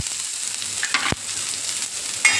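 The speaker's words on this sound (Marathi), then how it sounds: "यातच आपण कढीपत्ता घालून घेऊया आणि कांदा घालू" Onion and curry leaves tossed into hot oil in a pan, a sharp burst of sizzling with a quick clatter, settling into a steady close hiss and crackle, no talk.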